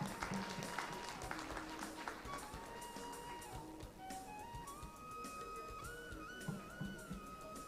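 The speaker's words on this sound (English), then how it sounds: "Please give him a huge round of applause," An audience at a diabetes medical summit claps in a sustained round of applause, fairly quiet and even, with scattered sharper claps and faint background tones.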